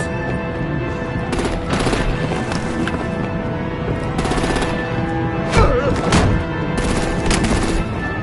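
Artillery and gunfire in Batman: The Enemy Within roll on as several loud bursts of rapid shots and booms, separated by short gaps in a dense, noisy battle scene.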